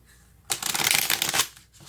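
A deck of cards is riffle-shuffled for a tarot-style reading, a brisk rapid flutter of cards lasting about a second, close and crisp, with no one speaking.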